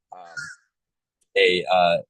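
A crow calling near a computer keyboard in an indoor setting, two short harsh caws with a pause between them, loud and close.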